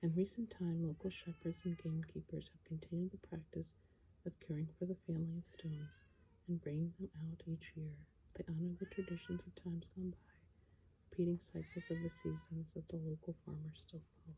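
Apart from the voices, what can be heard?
cat meowing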